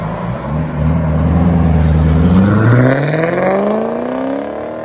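A BMW 545i with a 4.4L V8 revs up and holds high revs, the engine note climbing steadily and then easing off toward the end, loud and close with no talking.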